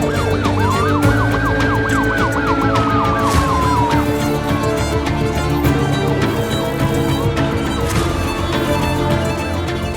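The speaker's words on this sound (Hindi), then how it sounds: "एम्बुलेंस दूर जा रही है" A loud wailing ambulance siren sweeps up and down continuously over dense traffic and engine noise, close at first and then slowly fading as the vehicle drives away.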